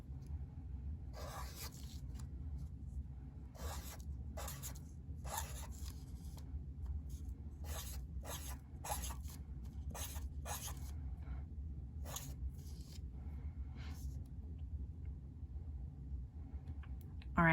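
Students write on their boards during a math class, a series of short scratchy marker or pen strokes coming in bursts, some quick runs and some single strokes, over a steady low room hum.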